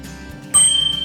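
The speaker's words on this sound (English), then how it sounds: "There's a bell right here." A bell on an electric pedal-assist bicycle rings once, a bright ting that rises sharply midway and rings out with a fading shimmer over faint background noise.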